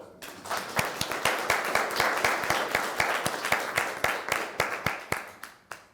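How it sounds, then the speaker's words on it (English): Audience applause at an IDnext 2024 conference on digital identity and privacy: loose, uneven hand claps close by, with distinct individual smacks over a softer wash, steady for several seconds and thinning toward the end. "Let's give it a applause."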